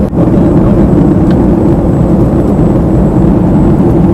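Steady, loud cabin roar inside a passenger plane in flight from Goa's Mopa airport to Pune during descent, a dense low rumble that holds unbroken and even throughout with no voices.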